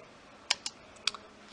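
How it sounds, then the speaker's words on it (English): A shoe thrown onto the ground, captured close with a boom mic, lands as a quick cluster of sharp knocks and small bounces, two main impacts with lighter taps after, in a quiet space. "I threw a shoe on the ground and recorded that with the same boom mic,"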